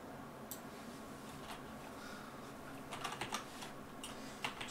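Typing on a computer keyboard, a soft steady patter of keystrokes with a quicker cluster of clicks near the end, close and fairly quiet over faint room noise.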